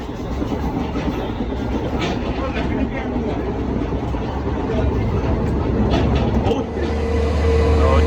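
Steady, loud rumble of a train at Jalandhar railway station, with a continuous mechanical drone and indistinct voices in the background.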